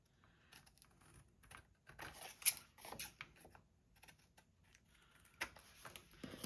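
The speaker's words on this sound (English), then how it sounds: "Just rest your scissors on a line and go." Scissors snip through thick cardstock backing in a string of short, crisp cuts with small pauses, close and fairly quiet, with no talking.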